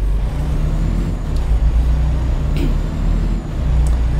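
A Freightliner Cascadia truck slowing down in American Truck Simulator on a Denver to Lamar haul: a steady, loud low engine drone with a brief air-brake hiss partway through.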